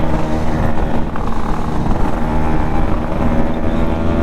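A Yamaha RXZ 5-speed two-stroke motorcycle being ridden: a steady, loud engine drone holds close and constant throughout, with no talking.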